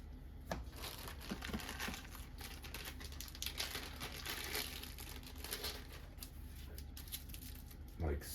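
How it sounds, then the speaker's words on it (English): Cards from the A, B and C decks of the board game A Feast for Odin being given a quick shuffle by hand on a table, producing soft, close, dry rustling and light flicking clicks over several seconds, with a brief thump at the end. "Just a little shuffle."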